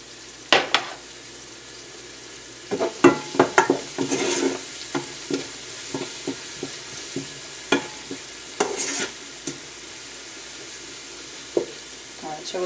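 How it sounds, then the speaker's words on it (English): Garlic sizzling in a pan for tomato sauce as it is stirred, giving a soft steady fry under repeated scraping and clinking strokes of the spoon, close and moderately loud. "so now we'll add our garlic"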